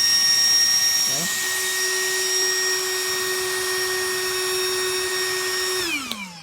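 A homemade 12-volt RC fan run off an 11.1-volt LiPo battery whirs with a steady high-pitched motor whine, starting abruptly and holding an even tone before spinning down quickly at the end.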